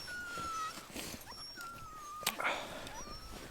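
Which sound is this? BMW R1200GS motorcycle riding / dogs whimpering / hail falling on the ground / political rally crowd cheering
dogs whimpering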